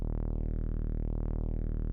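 Two sawtooth synth oscillators in unison with zero fine-tune, a steady buzzy sustained tone for about two seconds, playing alone with even loudness and a gently sweeping filtered top end.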